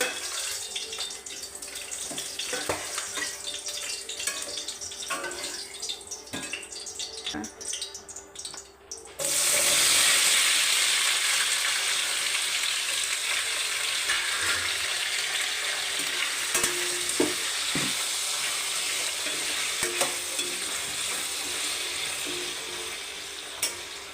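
Tomatoes fry in hot oil with green chillies in a pan for chutney, a steady bright sizzle that begins abruptly partway through and continues with occasional stirring scrapes, after quieter kitchen sounds.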